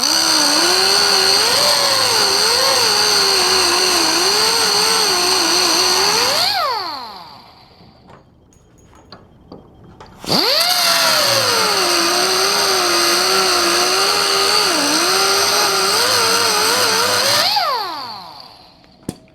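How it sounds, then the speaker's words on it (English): A cut-off wheel grinds studs off a dent-pulled Mustang trunk lid in sheet metal repair, a loud, steady high-pitched whine running about seven seconds, winding down, then spinning up again for another long pass before trailing off. "I'll cut these studs off again with my Ziz wheel."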